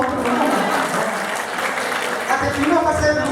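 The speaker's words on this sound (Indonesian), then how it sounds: "Tepuk tangan dong." A small group at a Ramadan religious talk claps steadily and loudly for a few seconds, with voices talking over the applause.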